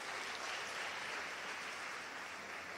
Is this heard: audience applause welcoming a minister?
yes